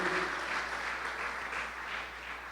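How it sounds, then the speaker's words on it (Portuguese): A church congregation applauds together, steady dense clapping that fills the room from start to finish with no talking over it. "Vamos aplaudir a Jesus."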